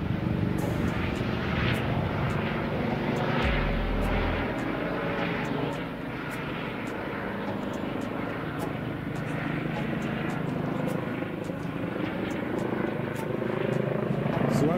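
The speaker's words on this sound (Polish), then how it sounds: "Jeszcze mamy helikopter LPR-u." An LPR medical rescue helicopter flies near a railway station, its steady rotor and engine roar filling the whole stretch at an even, fairly loud level with a low thump throughout.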